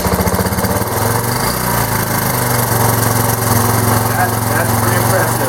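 A Suzuki GN125 motorcycle engine, started for the first time in five years, fires up and runs loud and close with a rapid, buzzing putter, holding a steady rough idle throughout.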